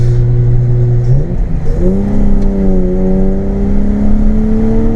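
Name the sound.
BMW E36 with swapped 2.8 M52 engine and straight pipe accelerating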